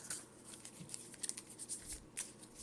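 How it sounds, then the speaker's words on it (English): A deck of Pokemon trading cards being cut and shuffled by hand, soft papery riffles and crisp snaps in short bursts, faint and close. "Now we need to shuffle, so I'm going to just cut my deck a few times like so"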